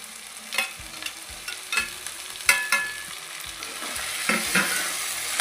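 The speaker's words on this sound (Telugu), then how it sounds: "చూడండి ఆనియన్స్తో పాటు ఇవి కూడా మంచిగా ఫ్రై అవుతున్నాయి కదా" Onions and tomatoes frying in a pan, a soft constant sizzle broken by repeated sharp spatula scrapes and clatters as they are stirred.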